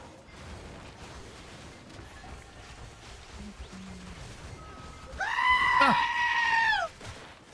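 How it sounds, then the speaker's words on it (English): A goat's scream erupts near the end, a loud, strained, wavering cry lasting under two seconds that rises above steady background noise and mechanical sounds. "The goat scream."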